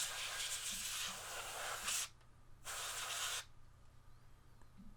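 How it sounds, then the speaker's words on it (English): Compressed air can spraying to dust a statue, two loud, steady hissing bursts of about two seconds and one second with a short gap between them. "So let's just do the compressed air."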